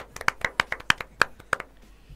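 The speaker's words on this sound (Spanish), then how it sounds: "a quien pido un fuerte aplauso, por favor" A few people in a radio studio clap sparsely for a guest joining by phone on a live broadcast. Roughly eight sharp, uneven claps sound close to the mic over a quiet background.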